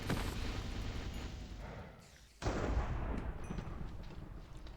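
A loud, dense blast rumbles through a Minecraft game world during a thunderstorm, a sustained booming roar that dips briefly before a second heavy burst surges back in and carries on.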